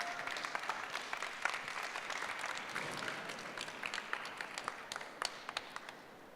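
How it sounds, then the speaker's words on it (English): Audience applause welcoming Team Blue onto the stage at a fashion sustainability pitch event: steady, fairly faint clapping from a crowd, with a few sharper individual claps standing out near the end. "Big applause, please."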